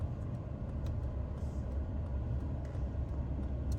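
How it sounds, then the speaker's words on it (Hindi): Steady low rumble of a car approaching and passing on a road during a driving test, heard from inside a stopped vehicle, continuous and moderately close with no talk. "वहां से गाड़ी आ रही है"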